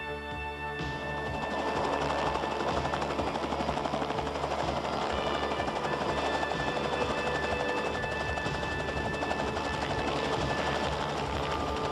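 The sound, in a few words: helicopter warmed up and running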